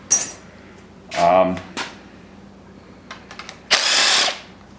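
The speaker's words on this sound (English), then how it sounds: "Dipstick bolt, just took the dipstick bolt out" Power tool whirs in a few short bursts while removing the dipstick bolt from a knocking Subaru WRX turbo engine, with clinks of metal parts between the bursts in a garage.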